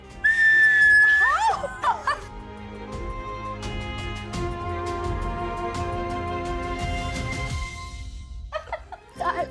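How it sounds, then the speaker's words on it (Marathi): Whistling rings out during a convocation celebration, with a bright sustained whistle near the start and more whistles and laughter throughout, over a busy crowd and voices. "मी तर शिट्ट्या पण वाजवणार आहे."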